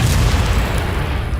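An explosion in the Batman: The Enemy Within video game gives a loud, steady low roar and rumble that fills the whole moment without any break.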